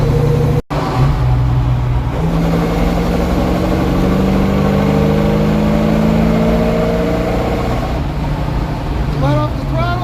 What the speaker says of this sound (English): You give it throttle, the rear end starts whining louder like the engine.